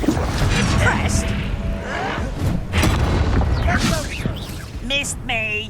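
A Confringo blasting spell explodes during Hogwarts Legacy combat, a dense booming crash layered with crackling magical effects and clatter, while voices shout over the fray.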